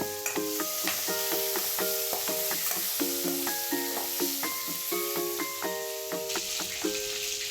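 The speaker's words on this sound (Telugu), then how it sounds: "ఇలా పీతలు వేపించేసుకుందామండి" Crabs fry in hot oil with turmeric for a crab pulusu, a steady hiss and sizzle running beneath loud background music with no speech.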